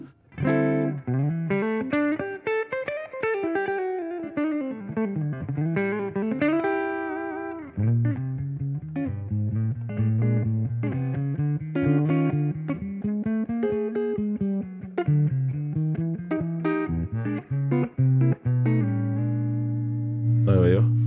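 Electric guitar fitted with a Bognar pickup gives a jazzy, 335-style hollow-body tone, playing continuous melodic lines and chords close and clear, with no talking.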